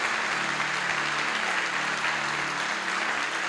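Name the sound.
church congregation applauding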